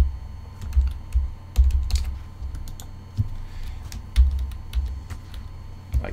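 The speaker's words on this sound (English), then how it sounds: "Keyboard's going a little wonky here" Computer keyboard typing while setting up a Raspberry Pi 4 server, irregular clicky keystrokes up close over a low steady hum.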